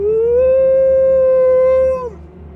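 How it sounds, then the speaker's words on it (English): A werewolf's howl from a scary story rises into one long, loud, sustained tone, then drops away at the end, close and alone over a low rumbling background. "A howl was Tabitha's only reply."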